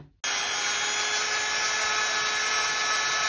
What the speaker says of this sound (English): Also, a sanding drill.